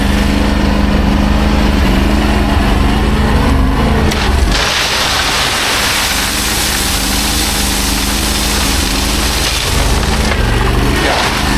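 A motorized concrete buggy's small engine labors loudly and continuously, straining as it climbs a hill with a full load.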